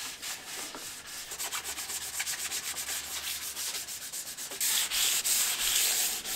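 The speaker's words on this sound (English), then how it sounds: "She's just sanding the tablecloth." Wood is sanded by hand while building a shelf for hooks, with steady rhythmic back-and-forth rasping strokes that are close and fairly loud, and the sound brightens near the end.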